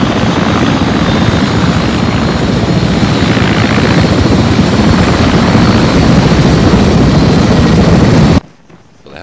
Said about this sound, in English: Helicopter's taken off.